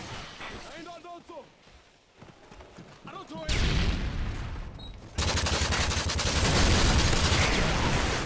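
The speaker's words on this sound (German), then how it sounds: "Oh, ja, wie es explodiert." Gunfire and explosions in the online multiplayer shooter game Modern Warfare 3, dense loud bursts of shooting and booming blasts that swell toward the end, with talking over the start.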